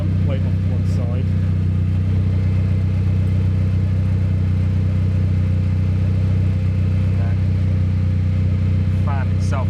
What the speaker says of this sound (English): The fan itself is working away.